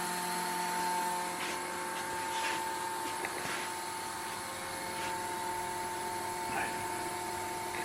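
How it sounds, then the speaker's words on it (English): A high-grade vacuum pump, of the kind used for a woodturning vacuum chuck, runs with a loud steady hum and whine, continuous throughout with small clicks and knocks over it. "For pulling the vacuum, I'm using a high-grade vacuum pump which I use for my vacuum chuck on wood turning."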